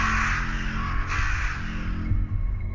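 Crows cawing as a sound effect in a Ukrainian audiobook fairy tale, harsh repeated calls over a dense, continuous background of music and ambience, fairly loud throughout.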